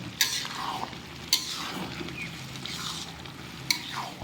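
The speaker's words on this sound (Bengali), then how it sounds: "এই যে দেখুন, খিচুড়ি রান্না হচ্ছে।" Khichuri cooking in a pot for an iftar meal gives a steady low bubbling sizzle, with three sharp metal spoon clinks against the pot and scraping stirs in between, close and with no talking.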